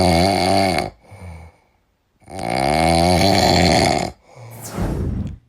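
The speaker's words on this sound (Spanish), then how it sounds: "roncando hasta con la baba de fuera" A man sleeps deeply and snores loudly at close range. There are two long, rattling snores, each followed by a short breath, with a gap of near silence between them.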